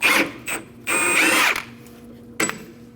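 A bolt being removed with a 19mm socket from a rear shock absorber mount on a 2011-2016 Kia Optima: several short, loud mechanical ratcheting and whirring bursts separated by pauses, with no talking.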